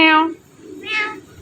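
A parrot imitates a cat's meow twice, two short, bright, nasal mews separated by a brief pause, close and clear against a quiet background.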